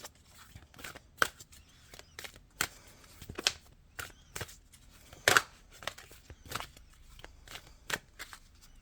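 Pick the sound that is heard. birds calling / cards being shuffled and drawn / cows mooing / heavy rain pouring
cards being shuffled and drawn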